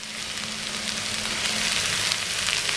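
Chopped amaranth leaves tossed into a hot pan with oil and turmeric, giving a steady, loud sizzle and crackle of frying that holds evenly throughout with no talking.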